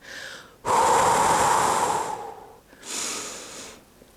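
Deep breathing during a core and pelvic floor exercise: a long, loud exhale followed by a pause, then a shorter, softer inhale, close to the microphone with no talking.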